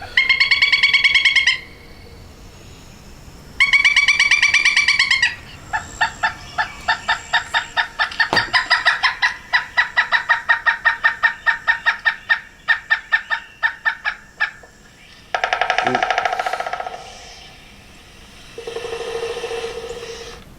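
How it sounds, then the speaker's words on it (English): A pileated woodpecker gives loud series of rapid, repeated call notes in several long bursts, rising and falling in pace, close and clear over a quiet background. "If you guessed pileated woodpecker, you're correct."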